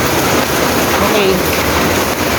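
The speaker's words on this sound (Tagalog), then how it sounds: "At nandito na sa Taiwan ang ulan." Heavy typhoon rain in Taiwan pours down in a steady, loud, dense hiss with no break.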